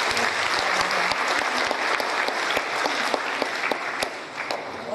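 An audience at a 2012 Korean unification talk concert breaks into sustained applause, a dense, even wash of clapping with a few sharper nearby claps throughout.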